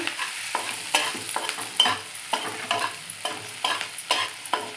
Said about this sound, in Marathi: मॅगी मसाला घातला आता हलवूया हलवलं